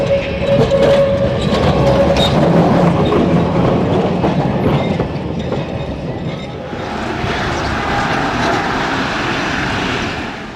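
A Kolkata tram rolls along its tracks with a loud rattling clatter and rumble of wheels on rail, fading slightly midway and continuing steadily without voices.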